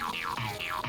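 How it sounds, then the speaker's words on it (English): Jumping on jets of water in a platformer video game gives repeated springy, swooping boing effects, about four bouncy pitch sweeps in quick succession, loud and alone. "What do you think that jumping on jets of water sounds like?"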